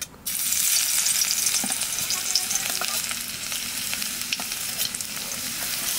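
Chopped garlic dropped into hot oil bursts into a loud, steady hissing sizzle after a brief quiet start, with faint stirring taps, close, and no speech.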